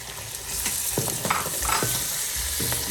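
Four medium tomatoes are stirred into finely ground minced meat frying for a qeema mattar pulao. A loud steady sizzle runs under repeated scraping strokes of a spoon against the pan, close up, with no talking.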